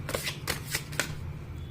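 Cards drawn and handled from a tarot deck, four quick, crisp paper flicks in an even rhythm close to the mic, then a quiet pause.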